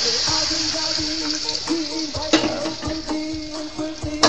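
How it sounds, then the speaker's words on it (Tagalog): Water poured into a pan of cooked onions for bistek tagalog, a close bubbling hiss and splash with a few clinks of a utensil against the pan, steady throughout without speech. "Yung luto na yung sibuyas, lagyan natin ng tubig."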